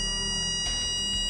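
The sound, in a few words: vehicle warning beep as a bike passes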